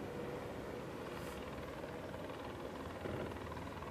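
Helicopters fly low overhead at the line-honours finish of the 2019 Sydney Hobart Yacht Race, making a constant, fairly faint rotor rumble that blends with broad wind and spectator-boat noise. No one speaks.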